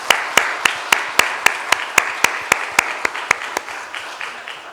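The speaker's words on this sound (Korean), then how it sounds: "이들에게 한번 감사의 박수 한번 하겠습니다." A church congregation at a Sunday worship service claps in steady, even rhythm, with around fifteen sharp, distinct claps sounding close and clear across a few seconds and no talking.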